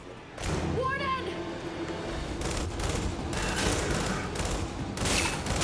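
Gunfire in the video game Gears 5 on an ice world level, sustained loud bursts of shots and thuds with a voice speaking over them.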